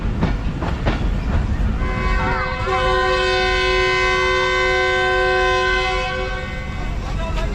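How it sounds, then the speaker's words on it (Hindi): A train horn sounds a long sustained multi-tone departure blast over the rumble of the Jaffar Express at Shikarpur railway station, with clattering rail noise before it. "2 मिनट खड़े होने के बाद डिपार्चर हॉर्न हो गया।"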